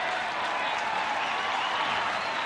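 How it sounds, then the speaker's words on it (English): A Penrith rugby league home crowd cheering and clapping at a 1994 match against Illawarra Steelers, a dense steady wash of applause and crowd roar with a commentator's voice over it. "The Penrith crowd get behind their team now"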